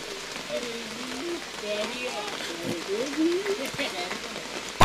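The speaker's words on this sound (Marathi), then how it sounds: "पावसाची सर सकाळपासून आपण पाहतोय" A light rain shower patters steadily during a local tournament cricket match, a soft even hiss under a commentator talking throughout.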